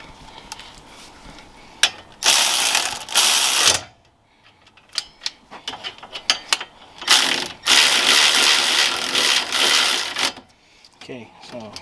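An electric power tool tightens the front brake bolts on a 2004-2009 second-generation Toyota Prius, running in two loud, rattling bursts of a few seconds each, with a quieter gap and scattered clicks between them.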